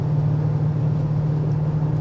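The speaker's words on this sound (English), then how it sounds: "In dynamics, so you can hear the exhaust" A 2024 Audi RS6 Avant wagon with its exhaust in dynamic mode gives a steady, deep droning rumble at an even cruising pace. The sound stays constant and fills the cabin throughout, with no voices.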